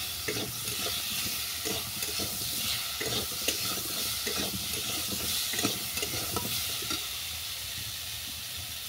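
A spoon stirs ground turmeric into a cucumber and shrimp curry in a hot pan, with steady scraping strokes over a continuous sizzle of frying, close and fairly quiet.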